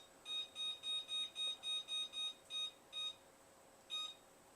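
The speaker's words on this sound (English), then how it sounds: "Go ahead and set our timer for 10 minutes." A kitchen timer set to ten minutes while baking chocolate chip cookies gives a run of about ten quick, regular, high electronic beeps, then a pause, a single beep, a longer gap and one final beep, faint and close with no talk.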